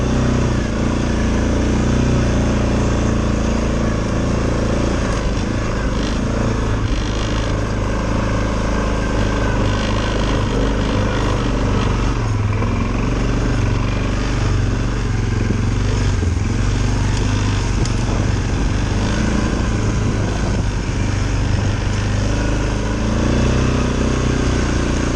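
A four-wheel drive vehicle climbs a steep Connecticut trail in four-wheel drive, its engine droning loudly and steadily throughout with rough, rumbling low-end vibration and no talk over it.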